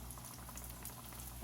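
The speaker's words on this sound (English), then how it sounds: "Like I said, this is not deep frying. This is a shallow fry." Leftover Thanksgiving croquettes shallow fry in oil at about 360 degrees, giving a steady, close bubbling sizzle with soft crackles and pops that continue evenly throughout.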